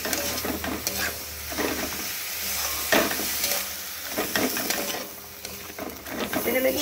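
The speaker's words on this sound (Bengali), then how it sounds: "এবার আমি এর মধ্যে কেটে রাখা পালং শাকটাকে অ্যাড করে দিলাম, দিয়ে ভালো করে এর সঙ্গে মিশিয়ে নেব।" Chopped spinach being stirred into a fried spice mix in a pan for dal palong, a spatula scraping and turning with soft sizzling beneath, close, with irregular clacks and pauses in the motion.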